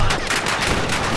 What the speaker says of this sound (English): Shots fired! Run!